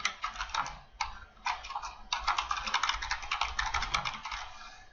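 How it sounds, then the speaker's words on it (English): Fast, steady keystrokes on a computer keyboard as an email address is typed, clicks in quick runs with a few brief pauses, close and clear with no talking. "typing in an email address here"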